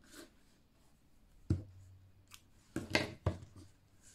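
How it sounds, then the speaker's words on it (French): Scissors snip through crochet yarn while finishing a beaded crochet bracelet: one crisp close cut, then a quick pair of snips a moment later, with quiet room tone around them and no talking. "Donc je coupe le fil."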